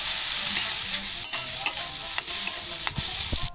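Close sizzling from a wok of fried eggs, vegetables and boiled Maggi noodles, punctuated by sharp, irregular spatula taps and scrapes against the pan; no voices.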